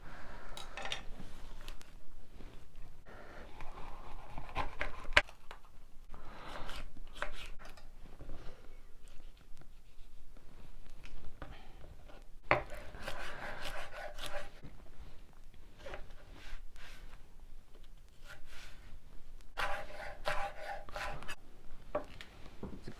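A knife scores and dices a vegetable on a chopping board for a vegetarian cottage pie, giving steady close scraping and tapping strokes that run throughout, with a few sharper knocks along the way.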